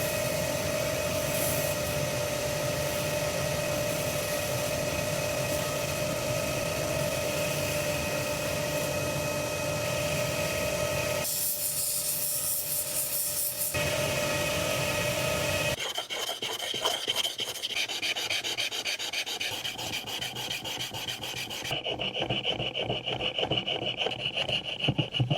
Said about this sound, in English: Let's go to polish it and sharpen it.